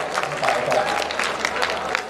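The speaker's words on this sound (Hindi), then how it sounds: "एक बार झम से बजाओ ताली तो मजा आ जाए" Audience clapping at a kavi sammelan poetry event at the Gorakhpur Mahotsav, a steady dense wash of many hands close by, with chatter from the crowd mixed in.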